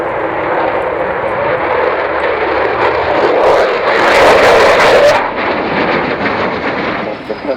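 Avro Vulcan bomber with Rolls-Royce Bristol Olympus engines powering up along an airshow display line, a loud sustained jet roar that swells to a harsh crackling peak midway then settles.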